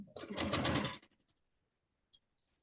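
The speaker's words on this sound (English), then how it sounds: "I'm going to chain sew at the same time so I can make 2 blocks." Sewing machine chain-sewing a quarter-inch quilt seam: a close, steady motor whir that runs for about a second and then stops, leaving faint clicks and near silence.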